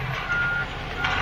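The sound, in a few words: concrete truck reversing beeps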